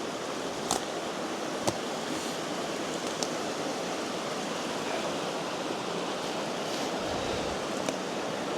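Water in a small creek just above a lake flows steadily outdoors, a continuous broadband rush with faint clicks and no talk over it.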